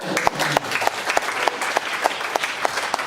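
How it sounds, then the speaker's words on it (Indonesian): An audience applauds at a talk honoring cultural figure Jaya Suprana, with a moderate, fairly sparse round of clapping in which several distinct sharp claps stand out rhythmically over a softer crowd patter. "Tepuk tangan."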